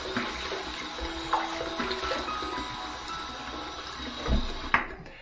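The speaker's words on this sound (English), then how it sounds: "we're going to take this water and we're just going to dump it in that sink there" Water dumped into a bathroom sink for shaving, a continuous splashing, draining rush lasting several seconds with a couple of louder knocks near the end, close and fairly loud.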